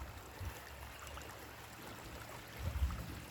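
Creek water flows steadily in a continuous broadband wash, with a couple of low thumps and bumps near the microphone while someone hunts for garnets in the creek bed.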